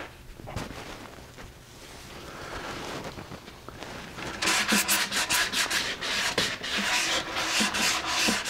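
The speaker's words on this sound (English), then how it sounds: "So I've got a flat sanding block and a contoured sanding sponge for curves." Sanding block and contoured sanding sponge rubbed over a cornhole board with fine grit paper, a soft scraping hiss that turns into steady, close back-and-forth rasping strokes for the second half.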